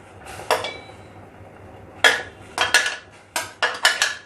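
Capsicum goes into a pan for spinach manchurian sauce: sharp metallic clinks and scrapes of a utensil against the pan come in quick irregular bursts, close and fairly loud.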